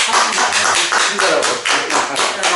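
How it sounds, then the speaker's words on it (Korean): Applause at a Korean city council member's interview gathering, a small group clapping steadily and close by with dense, even hand claps throughout. "박수 한번 쳐줘."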